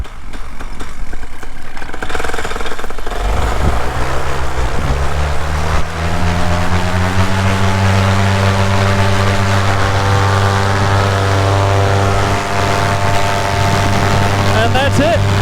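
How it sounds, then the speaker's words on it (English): Paramotor engine warming up without being revved: a low mechanical rattle builds into a steady, loud droning hum with a clear tonal whine, running continuously and fairly close. "let the motor warm up naturally without having to rev it up"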